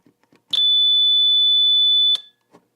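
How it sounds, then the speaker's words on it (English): A failed-circuit power alarm sounds a single loud, steady electronic tone for about a second and a half, then cuts off, with faint clicks before and after. "And then the alarm should go on."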